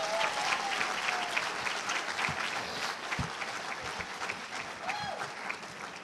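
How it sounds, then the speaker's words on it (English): A crowd at an education speech event claps continuously for several seconds, a dense steady applause heard from a distance that fades a little toward the end. "Let us give them a round of applause."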